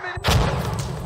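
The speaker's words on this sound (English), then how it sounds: "Oh, what a grenade." A grenade explodes in a combat shooter video game, a single loud close boom with a short rumbling tail.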